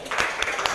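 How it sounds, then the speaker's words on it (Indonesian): Brief burst of clapping for a student group in a classroom, a few hand claps rising over a continuous murmur of the room, close and moderately loud. "Sekali lagi tepuk tangan untuk kelompok 3."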